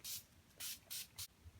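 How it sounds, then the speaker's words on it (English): Four short hissing bursts of a makeup setting spray misted onto a face, close and fairly quiet, with brief gaps between them. "I'm gonna spray my face first with Urban Decay setting spray"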